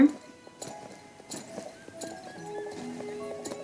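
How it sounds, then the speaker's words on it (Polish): Rhythmic clip-clop of horse hooves from a horse being ridden in a phone video game, with occasional neighs and soft game music tones, moderately loud and steady. "Jadę koniem. Gram na telefonie."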